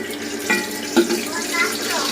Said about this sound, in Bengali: তো এখন আগে ভেজে নিতে হবে, এই যে তেজপাতা, দালচিনি, এলাচ।